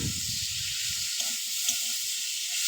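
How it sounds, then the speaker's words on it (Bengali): A pan sizzling loudly with a steady hiss as chili powder goes in for ol chingri (elephant foot yam with prawns), with low stirring knocks beneath. "এবার লঙ্কার গুঁড়ো দিয়ে দেবো।"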